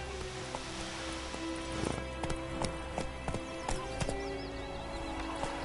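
Horse hooves clip-clop in The Witcher 3 game, a steady trotting rhythm close by with an occasional whinny and soft rain-like background, no speech.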